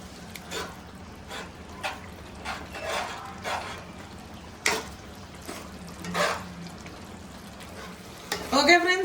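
Egg gongura curry bubbling in a pan on the stove, soft sizzling and simmering broken by a series of brief scraping stirs and clinks, with a clatter at the end and a voice speaking at times.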